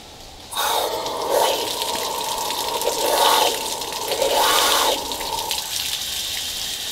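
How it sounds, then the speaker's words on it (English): Water rushes through a flush muff attached to a Yamaha outboard motor, a steady close hiss with three louder surges as the supply is squeezed, continuing alone without talk. "All right, I'm going to turn the water on."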